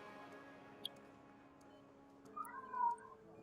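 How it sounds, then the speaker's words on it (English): A house cat meows faintly in the background, a couple of drawn-out cries near the end over a low steady room hum. "my cat's being annoying in the background"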